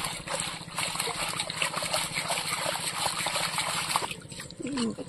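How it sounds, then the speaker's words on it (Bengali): Small fish are rinsed by hand in clear pond water, continuous splashing and trickling close by with a steady low hum underneath. "মাছগুলো এবার পুকুর থেকে ভালো করে পরিষ্কার করে ধুয়ে নেব পুকুরের জলে"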